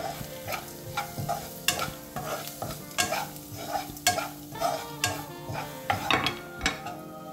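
Onions frying in a pan with fenugreek, coriander powder and turmeric, stirred with a utensil in a regular rhythm of scraping knocks over a steady sizzle, close and moderately loud, no voices.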